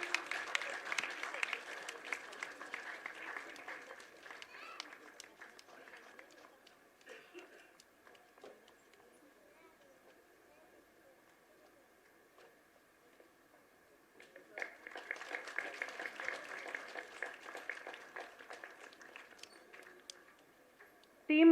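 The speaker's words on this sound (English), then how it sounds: "We should clap for their hard work," Audience clapping at an awards ceremony during a foundation day celebration, a loud burst at the start that fades to scattered claps, then a second strong round of applause near the end.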